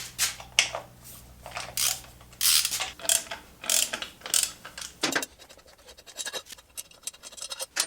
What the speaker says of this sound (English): We've just got to initially undo these 8mm bolts and we can get that cover off